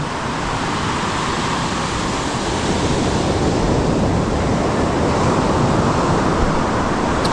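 Steady roar of surf breaking on a shore, continuous and full-bodied, with some wind noise across the microphone and no voices.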